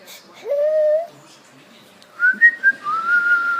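A person whistles a few short tones: one sliding held note, a pause, then a quick run of notes settling into a longer one, close and clear.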